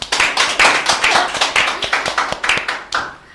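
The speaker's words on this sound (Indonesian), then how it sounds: "Tepuk tangan buat Bu Ririn" A few people in a studio audience clap for a female guest on an Indonesian talk show, giving quick, moderately loud rhythmic claps of about two per second that stay close and fairly sparse.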